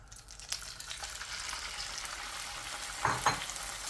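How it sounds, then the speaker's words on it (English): Chicken livers for peri peri searing in hot oil produce a quiet, even sizzle with scattered crackles and a couple of louder spits near the end. "Time to get the liver searing"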